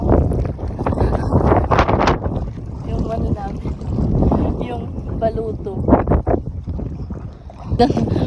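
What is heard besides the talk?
strong wind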